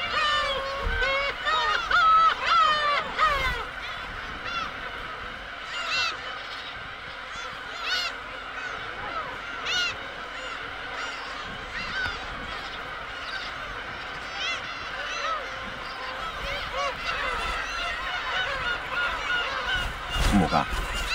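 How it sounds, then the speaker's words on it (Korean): Dense colony of black-tailed gulls calling continuously, a loud overlapping chorus of long cries and honking squawks over about twenty seconds, with calls near and far and no pauses. "새끼를 공격하며 괭이 갈매기는 자랑스럽게 긴 음을 낸다."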